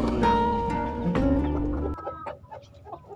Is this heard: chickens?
yes